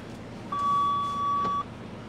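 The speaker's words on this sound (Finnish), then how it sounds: "Mitä se nyt piippui?" A machine's hold button sets off a single steady electronic beep, clear and fairly loud, lasting about a second over a low background rumble.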